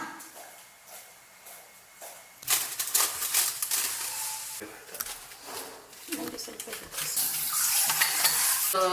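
Food being mixed with olive oil in a pan, starting quietly and then becoming a louder, steady sizzle with scraping and stirring noises up close.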